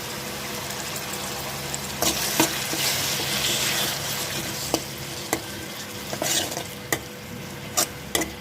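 Ground tomato goes into a pan of frying carrot and capsicum for pasta, giving a constant close hiss of sizzling with sharp utensil taps and stirring clinks throughout.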